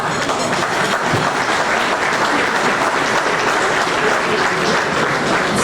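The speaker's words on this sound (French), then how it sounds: "nous pouvons collectivement les applaudir" A large audience at a community iftar gathering applauds collectively, a loud, continuous wash of many hands clapping that holds steady throughout.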